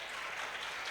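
Applause from an audience at a school function's performance day, a steady dense wash of clapping filling the whole moment without pause.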